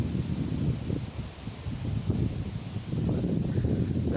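Blustery autumn wind outdoors near Southwell Minster buffets the microphone in a steady, gusting low rumble that swells and eases, with no talk.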